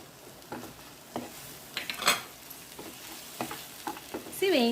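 A tablespoon of poppy seeds frying with softened tomatoes in a pan, a fairly quiet sizzle punctuated by scattered spatula scrapes and taps, ending in a brief high-pitched squeak.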